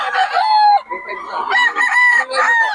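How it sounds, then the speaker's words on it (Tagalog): A rooster from a Batangas-bred gamefowl line crows loudly and close, two long harmonic calls with a brief pause between them, nearly alone with no talk over it. "Maganda ng manok niya ni Boss Ben"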